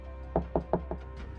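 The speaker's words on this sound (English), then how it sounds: "Her door is locked, so I knock lightly." Four light, evenly spaced knocks on a locked door sound close and soft, followed by a couple of fainter taps.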